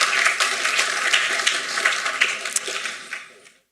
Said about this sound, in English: Welcome with an applaud